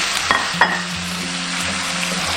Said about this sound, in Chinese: 闻到香味过后就可以下入鱼块，稍微给它铺开一点，让它收味均匀